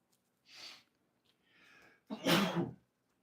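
One close, quiet sneeze bursts out after a couple of soft, sharp inhales building up to it.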